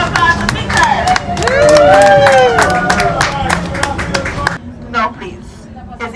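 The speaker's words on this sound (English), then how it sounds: "Round of applause to Peter." A tour group gives their driver a round of applause, with scattered hand claps and crowd babble over several seconds, overlapping voices and speech, then thinning out toward the end.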